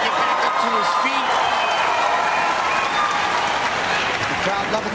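A packed arena crowd at a bantamweight MMA fight applauds and cheers in a dense, steady roar for the full five seconds, with voices blended into the noise.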